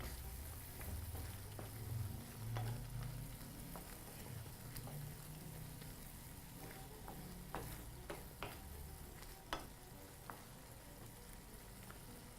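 Pieces of prawn, seasoned with salt and black pepper, fry in a pan for a Malabari prawn curry, giving a soft continuous sizzle with scattered faint ticks and crackles and no talking.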